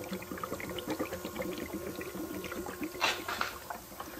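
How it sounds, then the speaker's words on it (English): Hydrogen gas bubbles up from four holes in a large electrolyzer into liquid, making a quiet, dense, irregular patter of small pops and gurgles that goes on throughout, with one slightly louder splash partway through. "So it's a pretty massive gas production there. I've got four of those holes putting out bubbles."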